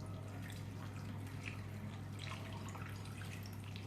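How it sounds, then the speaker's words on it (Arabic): Water trickles and drips steadily over sliced apples in a kitchen bowl, a soft continuous pour with a low appliance hum underneath, heard alone at moderate distance. "غنزيد عليه الماء"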